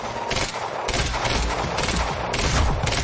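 Rapid gunfire rattles through a PC shooter game in dense overlapping bursts, loud and continuous, with sharp cracks repeating throughout.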